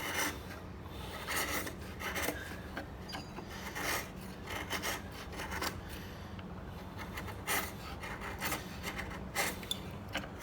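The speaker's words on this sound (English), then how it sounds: "I'm gonna just pare that cleanly off." A 10mm chisel paring wood cleanly from a half lap or rabbet joint, repeated short rasping scrapes in a steady rhythm, close and fairly quiet, with no speech.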